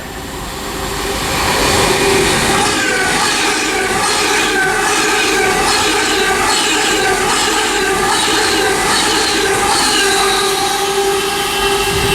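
A Virgin Trains Pendolino bound for London Euston from Liverpool Lime Street passes through Watford Junction on the West Coast Main Line, a loud sustained rush of wheels and traction whine that swells up and holds steady as it goes by.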